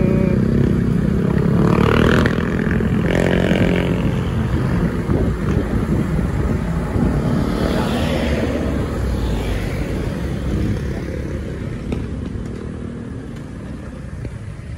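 Highway traffic on Andaya highway, backed up after a collision between two trucks. A loud, steady rumble of engines and passing vehicles mixes with strong wind buffeting the microphone and slowly fades slightly.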